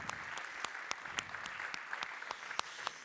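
Applause at an awards ceremony, the ADI 2023 trophies, comes as crisp, fairly sparse individual claps from a modest crowd, close and distinct over a soft room background.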